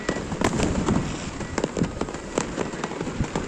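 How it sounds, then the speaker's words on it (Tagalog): Fireworks burst in a rapid, irregular string of sharp cracks and pops over a continuous rumble, close and loud, at an outdoor display near Malacañang. "Unya, may fireworks na."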